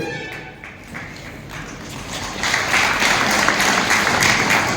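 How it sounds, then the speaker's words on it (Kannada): Steady applause from an audience at a prize-giving during an International Women's Day celebration at a company, broad and sustained, growing louder partway through with no talk over it. "ಜೋರಾದ ಚಪ್ಪಾಳೆ"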